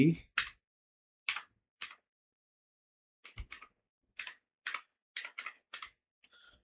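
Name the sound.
typing text on a computer keyboard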